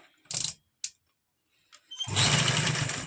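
A sewing machine runs a basting seam on fabric: a few brief clicks and taps, then a loud, sustained close whir of stitching starts about two-thirds through.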